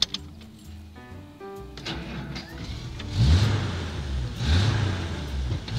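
A Packard 110 Coupe engine cranks and starts with a few uneven bursts, then settles into a rough, swelling idle. It is close and fairly loud, and two rising rev surges can be heard.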